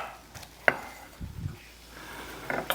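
Knife cutting a head of cabbage into wedges on a board, with a few sparse, close cuts and a sharp chop standing out, quiet in between.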